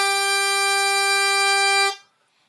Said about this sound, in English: you can get an octave split on the 3 blow and an octave above that